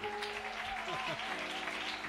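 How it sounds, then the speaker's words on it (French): A church congregation claps and cheers in a dense, steady wash of applause that fills the hall, with a voice briefly audible through the noise. "J'aime de bonnes acclamations."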